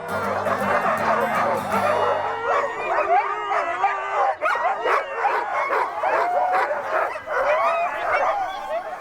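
A team of sled dogs on a northern Minnesota trail keeps up a dense, overlapping chorus of barks, yips and whining howls, close and loud without pause.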